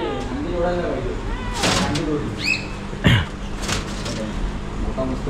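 Sun conure parrots call in a small zoo-style animal enclosure, a few sharp harsh squawks rising above ongoing nearby chatter and background noise.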